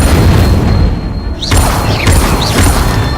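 Incendio fire spells blast in Hogwarts Legacy, loud booming bursts over a dense rumbling game soundscape, with sharp whooshing flares recurring across the span.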